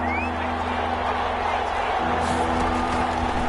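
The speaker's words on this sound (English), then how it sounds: "The crowd getting into it as we come up on a big 3rd down." In a football video game, the stadium crowd gives a steady, broad roar of cheering that swells slightly toward the end, with a faint voice heard at the very start.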